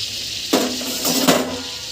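A large fish fries in hot oil, giving a continuous sizzle with sharp spattering pops and a couple of clanks from a pan or lid.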